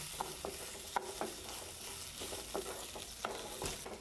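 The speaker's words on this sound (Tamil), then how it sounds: "இந்த நெய்யிலேயே நெய், பருப்பு, அரிசி இது 3ஐயும் போட்டு நல்லா வறுத்து எடுத்துக்கணுங்க" Rice and lentils roast in ghee for temple-style sweet pongal, a soft continuous sizzle broken by occasional scraping stirs of a spoon against the pan.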